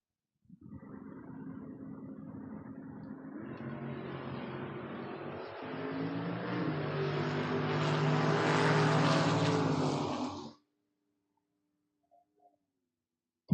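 Pickup truck and Camaro drag racing at a strip, engines roaring together for about ten seconds, building louder and rising in pitch before cutting off abruptly into near silence.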